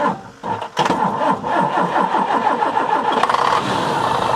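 A bus engine starting after a jump-start from a car with 12-volt power: a few cranks, then the engine catches and runs with a steady, slightly raised rumble up close.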